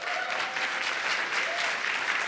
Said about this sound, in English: Can we get some claps?